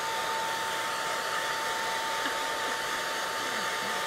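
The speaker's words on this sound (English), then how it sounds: "I gotta hit this with the dryer." A hair dryer blows over a wet painting of a Spiderwick sprite, a loud, steady, unbroken whir with a constant whine and no talk over it.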